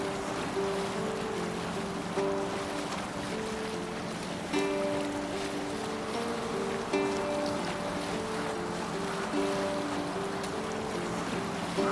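Viking longship sailing at sea in the video game Assassin's Creed Valhalla, with steady wind and rushing waves under a sustained droning musical hum that swells in short repeated phrases.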